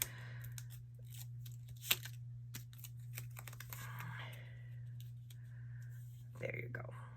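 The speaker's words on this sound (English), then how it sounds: "I'm going to go ahead and cut this up just a little bit." Scissors snip paper strips for a scrapbook page, producing close, crisp irregular clicks and cuts over a steady low electrical hum, with a voice talking partway through.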